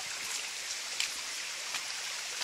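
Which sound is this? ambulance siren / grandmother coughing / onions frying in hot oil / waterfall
waterfall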